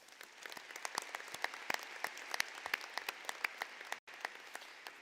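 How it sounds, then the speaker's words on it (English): Applause for faculty and staff at a high school graduation ceremony: a steady wash of many hands clapping, with sharp individual claps standing out, brief dropout near the end. "Let's give them all a round of applause."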